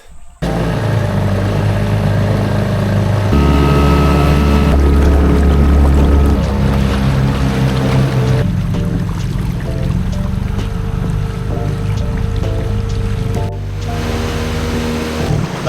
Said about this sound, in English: I've never been on the boat on the river up to the farm